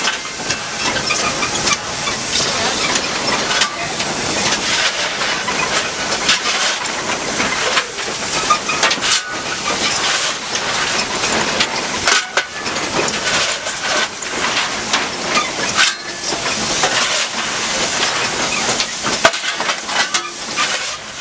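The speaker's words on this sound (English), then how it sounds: "we've made it to a straightaway where we get some on-the-road firing action with Jack." A steam locomotive on the Williams Grove Railroad in Mechanicsburg runs down a straightaway while the fireman fires, giving a loud, steady roaring hiss of steam with rhythmic chuffing pulses throughout and no talk.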